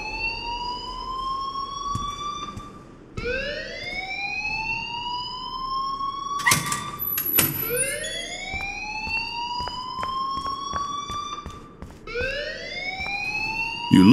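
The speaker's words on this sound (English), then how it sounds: "please turn off that alarm" A fire alarm in the video game Life is Strange wails in repeated rising electronic whoops, each sweep climbing in pitch before restarting, loud and steady with a brief clatter midway and no talking.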